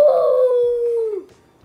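A person imitates a wolf howl with their voice, one loud drawn-out woo that slowly falls in pitch and fades at the end.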